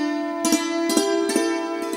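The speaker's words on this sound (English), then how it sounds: "This is the sound of the conch that Kaho wakes up to." Villagers blow a conch shell during temple prayers, producing a steady, sustained tonal drone. Sharp metallic strikes cut through it in a regular rhythm, and nobody speaks.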